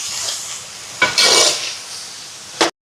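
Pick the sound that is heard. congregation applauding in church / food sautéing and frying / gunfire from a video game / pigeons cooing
food sautéing and frying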